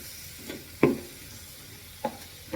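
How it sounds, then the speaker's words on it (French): Onions sautéing in a pan, a soft continuous sizzle broken by a few sharp clinks and scrapes of a utensil stirring, close by and with no talking. "je vais revenir les oignons de 6 minutes"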